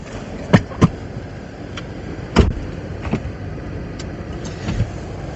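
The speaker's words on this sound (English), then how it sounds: "this window's rolling up and down" A Tesla Model X power window motor whirs quietly over a steady cabin hum in 8°F winter cold, broken by several soft clicks and thumps as the glass stops and starts.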